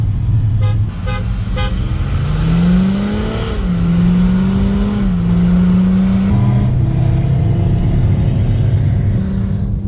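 A VW Amarok V6 accelerates hard in a rolling drag race, its loud engine drone rising steadily through the gears with brief dips at each shift, heard up close from inside the cabin.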